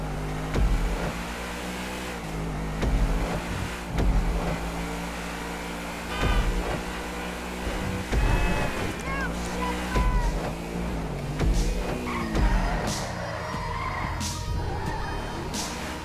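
Cars engines in a GTA 5 race: a steady engine drone with repeated surging revs and a few skid-like whines, moderately loud, with faint voice-like sounds at times.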